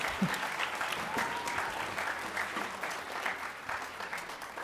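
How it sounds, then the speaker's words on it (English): An audience at a middle school winter band concert applauds the steel pan ensembles, a dense, steady wash of many hands clapping that fills the hall throughout, with a few louder claps standing out near the start. "round of applause for our steel pan ensembles, one more time"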